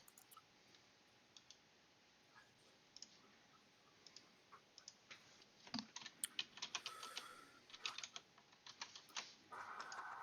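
Sharp mouse and keyboard clicks come in irregular bursts at close range. A right-click is used to paste during an online Dungeons & Dragons session, and the clicks grow denser and louder toward the end, with no talking.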